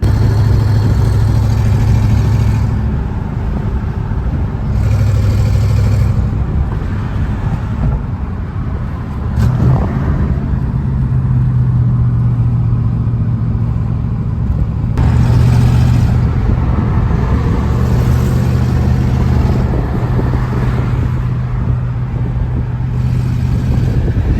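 A cammed 1989 Ford 5.0 V8 with a B-cam, B7 heads, GT40 upper and lower intake and forged pistons idles loud and close with a lumpy rumble, its pitch shifting a few times as the throttle is blipped.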